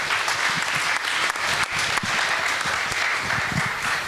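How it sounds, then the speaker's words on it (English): Audience applause for a participant at a proptech startup pitch competition, loud, dense clapping from a room full of people, sustained and even throughout. "Big applause."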